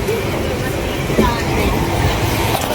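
A train at a crowded railway station on a trip to Kashi, a steady rumble of rail noise and station bustle filling the scene, with voices mixed into the background throughout.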